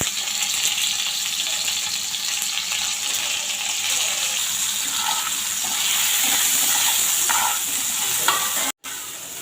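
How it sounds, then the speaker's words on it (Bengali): Potatoes fry in oil with salt and turmeric, giving a strong, steady close-up sizzle. Faint scraping from stirring and a watery hiss run beneath it throughout. "এই যে লবণ আর হলুদ দিয়ে আলুগুলো ভেজে নিলাম"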